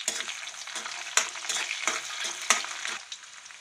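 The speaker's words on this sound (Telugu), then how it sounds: "కరివేపాకు కొద్దిగా వేగిన తర్వాత పచ్చిమిర్చి చిలకలు కూడా వేసి వేయించుకుందాం." Green chillies and curry leaves frying in hot tempering oil, crackling sizzle with rhythmic stirring strokes and sharp spatters, close and moderately loud, no voices.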